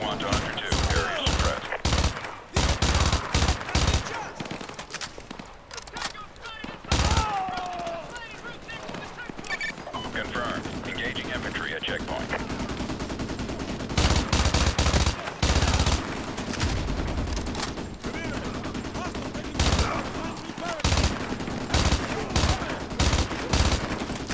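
Rapid bursts of gunfire from the Modern Warfare 2 Remastered campaign crack out in repeated loud volleys, with sustained automatic fire in the middle, while a player talks over the action.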